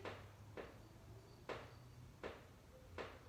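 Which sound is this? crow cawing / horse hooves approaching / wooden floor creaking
wooden floor creaking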